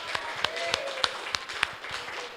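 A church congregation claps in praise, sparse and fairly quiet, with a handful of sharper individual claps standing out in an uneven rhythm over a light room murmur.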